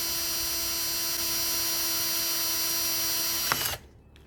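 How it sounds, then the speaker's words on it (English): Power drill slowly boring a hole in an acrylic sheet, a steady whining hum with a fixed tone that suddenly drops off as the bit breaks through, leaving quiet. "let the drill do the work."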